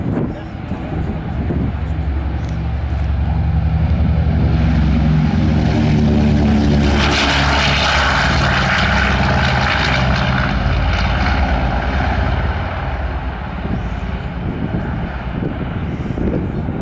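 A Boeing B-29 Superfortress's propeller engines (Wright R-3350) run loud and steady at an airshow during a World War II weekend event, a deep droning roar that swells and holds, with a voice talking over it.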